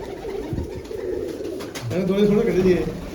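Bearded red pigeons coo in soft, low, rolling calls, fairly close, with a steady murmur of other birds behind them.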